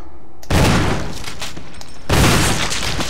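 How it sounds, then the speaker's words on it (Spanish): Two heavy gunshots in the Resident Evil Remake HD video game, each a sudden loud blast with a long booming decay, the first about half a second in and the second about a second and a half later. "tiré dos tiros bien"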